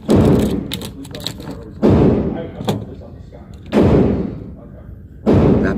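Four loud, sharp 9mm pistol shots at a shooting range, firing defensive rounds from a carry gun, evenly spaced with each blast trailing into a long reverberant decay.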